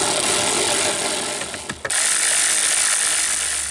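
A ratchet tightens bolts on a 1998 Corvette C5 wiper motor, with a quick run of close mechanical clicks partway through, set against a loud, steady background rush.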